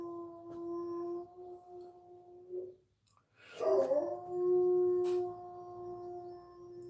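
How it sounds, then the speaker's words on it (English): A dog howls indoors in long, sustained, wavering tones, with a first drawn-out howl, a short pause, then a louder rising howl that carries on steadily. The howls are close and clear, with no talking over them. "Dog sitting in the house howling."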